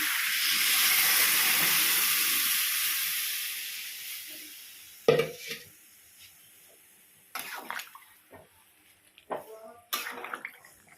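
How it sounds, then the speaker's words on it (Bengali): A pan of prawn curry broth (chingri maacher jhol) gives off a loud, steady steam hiss that slowly fades. Scattered clatters and utensil knocks follow near the pan. "দেখুন ঝোলটা উঠে গেছে"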